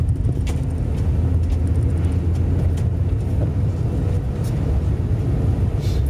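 A Ford Focus idles or passes nearby outside Falkirk Stadium in Airth, Scotland, giving a steady low engine rumble throughout, with a few faint clicks and no talking.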